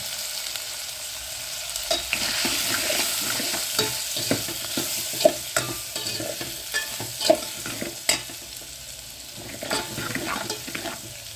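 Vegetables and spices sautéing in hot tempering oil for a no-onion, no-garlic puri bhaji: constant close sizzle with repeated scraping and clacking of a spoon stirring the pan, no talking.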